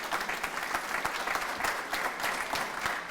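An audience at a festival celebration claps steadily for the volunteers, a dense wash of many hands at moderate distance, continuous without voices.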